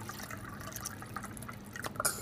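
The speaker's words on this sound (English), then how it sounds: "I like to put a little bit more water in there," Water poured and dripping into a glass of strong absinthe, a short trickle of small liquid drips and splashes close by that builds to a brighter pour at the end, with no talking.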